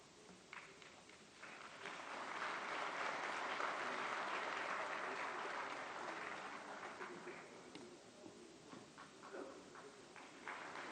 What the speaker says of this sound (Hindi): जोरदार तालियों से स्वागत, वंदन, अभिनंदन।